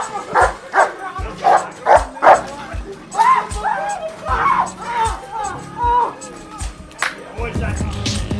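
A dog barks and yips repeatedly in sharp, closely spaced bursts, loud and near, with excited voices talking over and between the barks.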